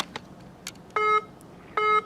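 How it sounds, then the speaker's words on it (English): A phone rings with two short electronic tone bursts about a second apart, fairly clear over quiet background with a few faint clicks. "my phone is ringing at this time"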